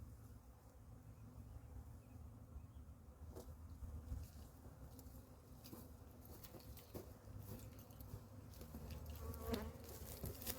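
Honeybees swarm around a newly installed beehive, a dense continuous buzzing close by with individual bees droning past, steady and without talk.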